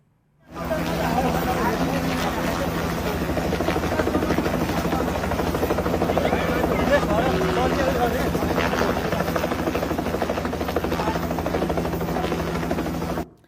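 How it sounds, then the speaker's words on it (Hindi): A rescue helicopter flies low over a flooded building in Nepal, its rotor and engine roar loud and constant throughout, steadily beating with no pause. "उन्होंने अपना हेलीकॉप्टर छत पर फंसे व्यक्ति की तरफ मोड़ा और बहुत कम ऊंचाई पर उसे ले गए।"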